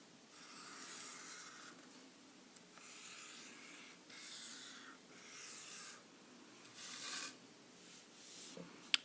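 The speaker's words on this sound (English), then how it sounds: "I just draw a line across the top so the kids know where to put their answers later on." Pen or marker drawing lines by hand for an area model, a quiet scratchy rasp in several broad strokes with short pauses between, close and faint, no talking.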